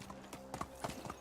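Galloping horse in the medieval game Medieval Dynasty, a brief run of a few sharp, close hoof strikes in quick rhythm.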